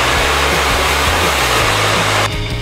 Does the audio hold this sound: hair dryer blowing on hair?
yes